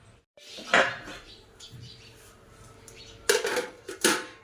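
Dishes and cutlery clink and clatter as rice is served onto a plate, a few scattered knocks early on, then a quick cluster of clanks near the end.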